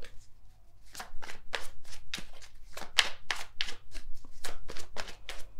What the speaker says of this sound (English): I shuffle.